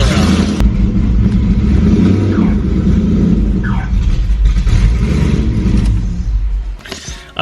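A 1000hp Ford Shelby GT500 pulling away, its engine a loud, deep rumbling growl that swells under throttle and stays steady before easing off near the end.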